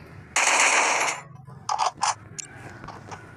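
Automatic weapon fire in the video game Free Fire, fired without a scope: a long sustained burst followed by a few shorter bursts, loud and close, with no talking.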